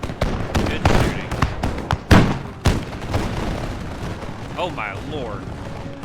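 Musket volleys crack and boom in the Total War Empire video game in rapid, overlapping bursts, loud at first and then thinning out, while a voice exclaims over them.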